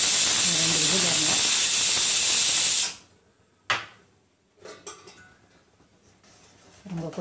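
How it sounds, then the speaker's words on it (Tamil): Tomato mixture for pav bhaji cooking in a pressure cooker on the stove, with a loud, steady steam hiss for about three seconds, then quieter bubbling and clatter of a pot in a kitchen. "ரொம்ப கொதிக்குது."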